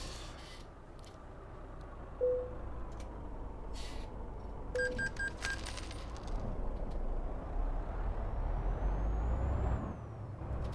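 Air brakes on a truck in Euro Truck Simulator 2 hiss in a couple of short bursts over a steady low engine rumble, with a few bright electronic chimes between them.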